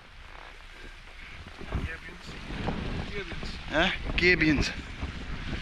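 Gusty wind rushes across an open valley in the Scottish hills during a walk, a steady roar of buffeting that swells and fades with the gusts, with someone talking over it.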